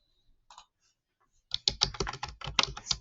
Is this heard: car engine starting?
no